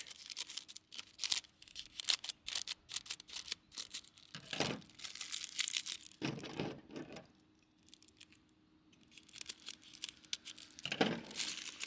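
Scissors snip through a folded sheet of paper being cut into a round liner for an air fryer, giving a quick, irregular run of close, crisp cuts and rustles with a brief pause partway through.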